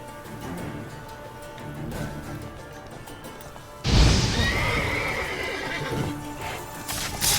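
A horse in The Witcher 3 neighs and whinnies amid galloping hoofbeats, starting softer under game sounds before a sudden loud crash-like burst and a strong, close whinny that trails off.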